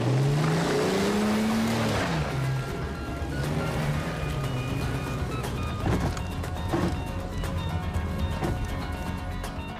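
A car engine runs loudly and close by for the whole stretch, its low rumble rising and falling as it revs and pulls away, with road and tyre noise over it.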